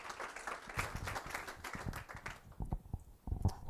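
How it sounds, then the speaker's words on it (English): A small workshop audience claps for a speaker, faint and uneven, with scattered individual claps that taper off near the end. "Let's give her a round of applause."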